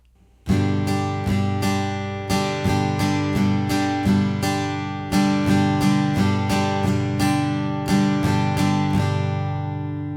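An acoustic guitar strums a steady chord pattern that skips the down strum on beat three, giving a repeating rhythm of bright, ringing strokes with a gap each bar, played alone and close.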